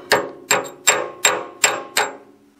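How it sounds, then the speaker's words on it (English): A hammer chips flux and slag off a 7018 stick weld in six sharp metallic strikes, evenly spaced about every 0.4 seconds, loud and close, each ringing briefly. "breaking that flux and slag away there"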